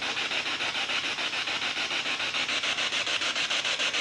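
A new SB7 spirit box sweeps through AM radio stations, producing a constant loud hiss of static chopped into rapid regular pulses as it scans, with no voices over it.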